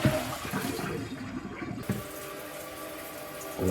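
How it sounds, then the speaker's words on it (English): Water draining from soaked fodder seeds in a tray, a splashing trickle that starts strong, thins to a softer, steadier runoff, then swells briefly again at the end. "Drain it again."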